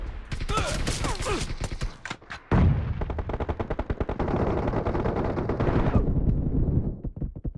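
Gunfire from the BGMI mobile battle royale game in a team deathmatch: rapid automatic bursts crackle loudly and close, with a brief gap before another long sustained volley that tapers into a few scattered shots.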